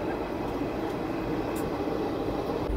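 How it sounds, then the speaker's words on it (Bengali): A train pulling out of Prantik station on a Tarapith to Kolkata run makes a steady, loud rolling rumble with rail noise close by, and no voices are heard. "একেবারে 2 মিনিট হল্ট দিয়ে আমাদের ট্রেন কিন্তু এখন প্রান্তিক স্টেশন ছেড়ে চলে যাচ্ছে"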